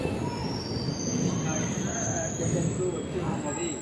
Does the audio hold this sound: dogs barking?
no